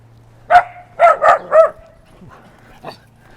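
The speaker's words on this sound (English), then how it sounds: "dogs barking into the microphone is not a joy" Dogs barking close to the microphone on a city walk in Helena, Montana: one sharp bark, then three quick barks in a row, with a fainter yip after a pause over a low background hum.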